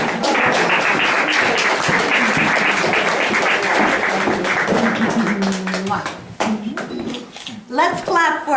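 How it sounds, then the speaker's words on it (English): Sustained applause from a crowd, dense and steady for several seconds, then tapering off as voices and cheers rise near the end. "Let's clap for Cheriston."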